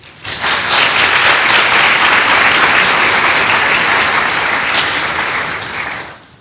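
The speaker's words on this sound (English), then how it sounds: "So you deserve a very warm round of applause" A large audience at a pharmacy white coat ceremony breaks into loud, sustained applause, rising quickly to a steady full roar of clapping and tapering off at the close.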